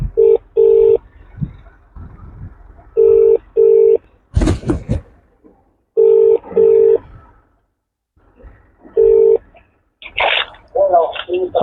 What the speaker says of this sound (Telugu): దగదర్తి పోలీస్ స్టేషన్ నుంచి మనకు కాల్ వచ్చింది.